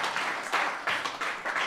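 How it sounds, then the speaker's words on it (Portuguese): A studio audience applauds for Tiago in a short, dense burst of clapping that swells in a few waves. "Tiago merece esses aplausos, ele merece."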